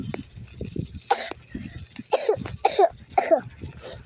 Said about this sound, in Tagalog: Di pa rin natatanggal yung ubo ko.